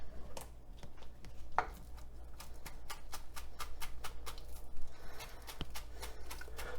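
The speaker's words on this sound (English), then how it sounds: "2 green onions, thinly sliced." A knife thinly slicing two green onions on a cutting board, a steady run of quick, crisp taps close by with no talking.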